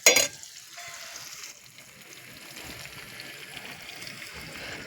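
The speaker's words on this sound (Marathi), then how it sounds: "पहिला पण कांदा थोडा टाकला आहे, आता पण टाकतो लाल होस्तवर भाजायचा." Onion frying in oil over a wood-fired village stove while making mutton soup: a sharp clatter at the start, then a soft, steady sizzle that continues close by without talk.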